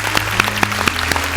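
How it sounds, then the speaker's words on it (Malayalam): Audience applause at a comedy show, with sharp, evenly spaced hand claps at a steady rhythm over a constant low hum, close and fairly loud. "ഒരു നല്ല കൈയടി"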